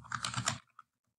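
A computer keyboard typed on while filling in a table in a Microsoft Word document: a quick close burst of keystrokes for about half a second, then a couple of faint isolated taps.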